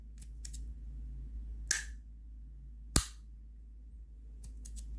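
Two distinct, sharp clicks from a fidget toy, well spaced and close, over a faint low background hum, with a few softer ticks at the start and end.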